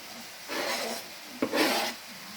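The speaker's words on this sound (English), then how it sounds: "now I'm just adding the bacon into the mince now." A utensil scrapes and rasps through bacon and mince in a pan, with two short stirring strokes close by, separated by a brief clack.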